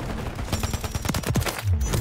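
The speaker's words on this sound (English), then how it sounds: "Now, when you have an LMG, you might as well keep shooting" Rapid bursts of LMG fire in the Warzone battle royale shooter, a fast string of sharp shots clustered around the middle, loud and close, with low rumbling game ambience throughout.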